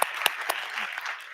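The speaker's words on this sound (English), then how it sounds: "Give them a big applause" Conference audience at a thirty-year anniversary celebration applauds briefly and loudly for a panel, a dense burst of clapping with a few sharper claps up front.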